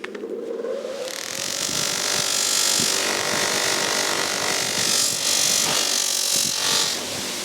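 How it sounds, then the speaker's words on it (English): Chinese-built wheel polisher with white putty applied to a soft wheel, a steady loud whirring motor hum after a brief quieter start, with rubbing and scraping of the workpiece against the wheel throughout. "So we're going to apply the white putty now on the soft wheel."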